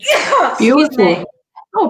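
A single sharp sneeze bursts out between stretches of close conversational speech, with a brief quiet pause before the talking resumes.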